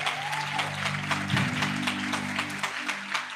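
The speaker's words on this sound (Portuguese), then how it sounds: "dá uma salva de palmas para esse povo maravilhoso aí" A church congregation applauds during a worship service, a sustained, even patter of many hands clapping together, with a low organ or keyboard hum and a brief voice near the start.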